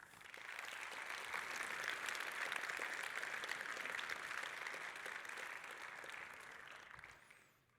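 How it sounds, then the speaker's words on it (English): Conference audience claps in a dense, even round of applause, rising quickly, holding for several seconds, then tapering off near the end; heard from within the room at moderate volume. "Please give them a big round of applause."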